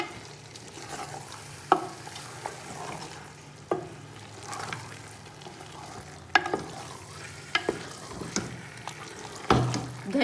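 Mutton and cauliflower cooking in a pot with green chillies and coriander, a soft steady sizzle broken by sharp spoon scrapes and knocks against the pan, close up.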